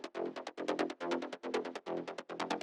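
A low mid-range bass synth arpeggio from the Inspire plugin, around F3, pulses in a quick, choppy rhythm of short repeated notes for a trance track, quiet and alone.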